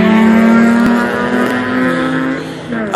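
A Nissan GT-R accelerating hard in a street race: a loud, close, sustained engine roar with a steady high tone that shifts in pitch as the car pulls away.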